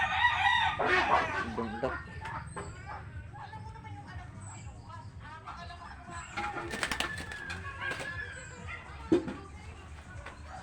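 Chickens and pet birds kept in training, with a rooster crowing amid clucking and assorted bird calls close by, while someone talks over them throughout.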